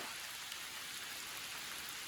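Rain falls outdoors, a soft, steady hiss of drops on surfaces, faint and unbroken with no voices.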